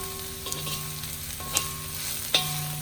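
Vietnamese pork sausage and Chinese sausage fry in a little added oil, a close continuous sizzle with a steady hum beneath and a couple of brief sharper spatters.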